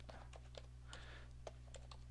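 Soft, quick keystrokes on a computer keyboard tap out an irregular run of clicks, quiet and close against a low steady hum.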